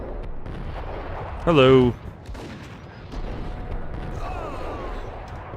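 Gunfire in Max Payne, one loud, sharp shot standing out from a busy background of quieter shooting and game noise, with a voice speaking briefly.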